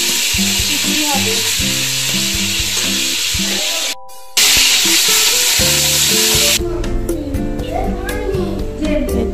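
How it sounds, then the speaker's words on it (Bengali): Loud, steady sizzling of five kinds of fried vegetables cooking in hot oil for a home birthday puja feast, with stirring clatter and a voice and other chatter in the background. "এতে হচ্ছে 5 রকম ভাজাভুজি"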